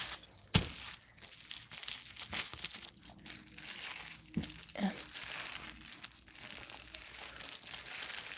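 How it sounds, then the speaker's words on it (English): Handmade paper with deckled edges, like watercolor paper, being rolled and crinkled by hand, giving a steady close rustle and crackle with a few sharper crunches throughout. "Yes, Cherie, the reason you're rolling it is to cause the fibers to become one, to meld together"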